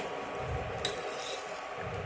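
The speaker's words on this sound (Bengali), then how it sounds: "দুধের মধ্যে আমি এবার চিনি দিয়ে দিচ্ছি।" Sugar being stirred into 500 grams of milk in a pot for rice pudding, a soft continuous scraping and swirling close by with one brief metallic clink, no talking.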